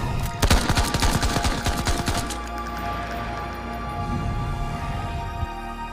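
Rapid bursts of gunfire crackle loudly in quick succession for about two seconds, then give way to a lingering, fading rumble with no talking.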